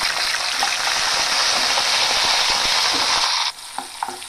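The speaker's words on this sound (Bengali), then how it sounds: "এবার কেটে রাখা সিমগুলো আমি দিয়ে দেবো তেলের মধ্যে।" Chopped flat beans sizzle loudly in hot oil in a pan, a dense, continuous hiss that drops away suddenly near the end and leaves a few faint clicks and stirring sounds.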